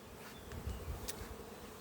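Bees flying around their hives, a faint, steady buzzing drone with a few passing insects swelling briefly closer, quiet and outdoors.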